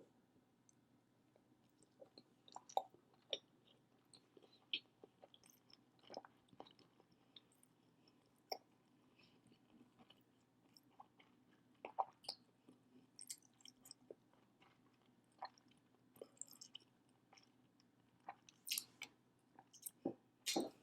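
Close, quiet chewing of tuna sushi with soy sauce and wasabi, soft wet squishes and small clicks in an irregular rhythm against a silent background.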